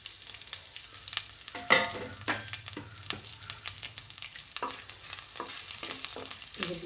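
Dried red chillies with the seeds removed, five or six of them, roast in a pan alongside urad dal, a soft, low crackle with irregular light scrapes and taps of stirring, close by, with no talk.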